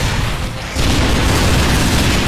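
In the video game Robugs, a loud explosion lands as a sudden jump into a thick, sustained roar of noise that carries on without a break.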